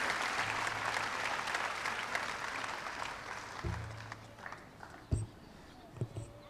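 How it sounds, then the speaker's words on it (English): Clapping from a graduation audience at a high school ceremony fills the first seconds as a dense, steady roar, then thins out and fades to scattered claps, thumps and light crowd noise. "let's give another big round of applause"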